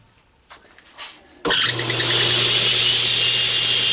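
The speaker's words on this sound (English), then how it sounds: "you can hear my drive belt slipping a little bit" Belt grinder starts up abruptly and keeps running loud and close, with a steady motor hum under a bright, hissing whir that suggests its drive belt is slipping slightly.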